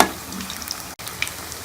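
Pakoras fry in hot oil in a pan, giving a steady close sizzle with small pops and bubbling throughout.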